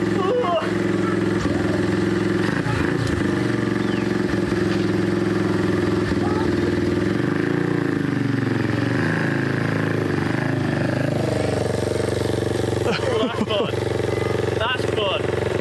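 A restored pit bike motorcycle engine runs with a steady buzzing drone and some revving, loud and close, with people talking over it.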